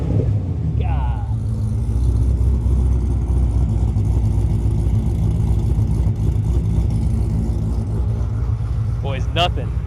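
A 1200 hp Corvette C7 Z06 engine runs with a loud, steady throaty rumble throughout, with brief voices over it near the start and end.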